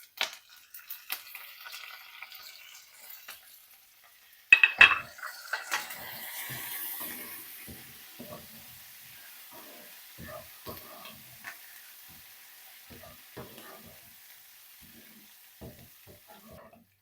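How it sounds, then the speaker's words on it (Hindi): Garlic, white cumin seeds and curry leaves dropped into hot oil in a pan for a tempering, starting with a sharp burst of sizzling that settles into a faint, crackly frying hiss with scattered pops and stirring clicks. "अब मैं फ्लेम को तेज कर दूंगी ताकि लहसुन पे और कड़ी पत्ते पे गोल्डन कलर आ जाए।"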